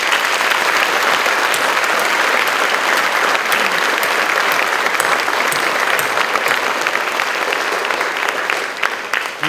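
An audience at an honors scholarship awards ceremony breaks into dense, sustained applause that stays loud and even throughout, with a faint crowd murmur underneath.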